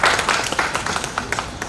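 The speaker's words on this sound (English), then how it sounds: "So give a big applause" Meeting audience clapping after an election announcement, a brief burst of scattered hand claps that thins into uneven individual claps, fairly close.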